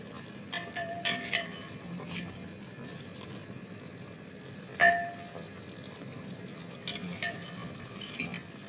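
Mixed vegetables roast in a handi with a low, steady frying hiss, broken by a few scattered metallic clinks and one sharper clang of a utensil against the pot as they are stirred.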